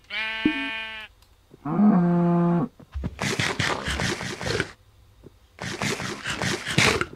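Minecraft farm animal bleats in two harmonic calls near the start, followed by bursts of broadband game noise.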